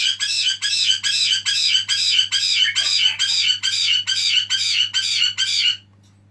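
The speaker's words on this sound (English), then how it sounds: "Excuse the parrots." Harsh, rapid parrot squawks repeat in a steady rhythm of about a dozen bursts, loud and close, then stop abruptly.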